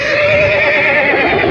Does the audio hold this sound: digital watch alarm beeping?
no